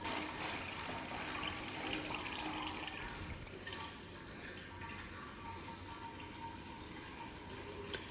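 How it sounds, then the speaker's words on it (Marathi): Water poured over a temple idol during a puja at a Panchayatan shrine in Nadal, Khalapur, making a steady, soft rushing hiss that runs the whole time, with no talking. "आता नंतर पाणी टाकून ते काढून घ्यायचं असतं"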